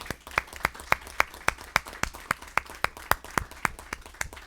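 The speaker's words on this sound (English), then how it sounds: "So we just give them a round of applause." Small group at a school board meeting claps for committee members, sparse distinct claps in a fairly steady rhythm, close and moderately loud in an indoor room.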